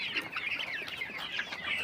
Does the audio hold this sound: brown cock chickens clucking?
yes